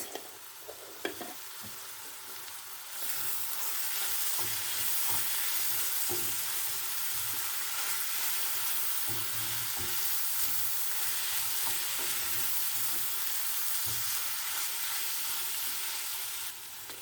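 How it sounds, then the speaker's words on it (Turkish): Ground meat with red pepper powder and spices sizzles steadily in a hot pan with occasional scraping stirs, a constant loud frying hiss with no talking. "2 dakika daha kavurduktan sonra artık kıymalı harcım da hazır."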